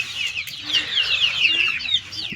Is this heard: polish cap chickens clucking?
yes